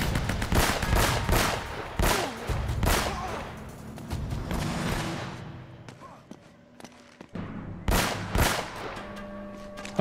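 Gunfire from Uncharted: Drake's Fortune fills the mix with loud, dense bursts of shots and rapid automatic fire, then a short lull and more sharp blasts near the end.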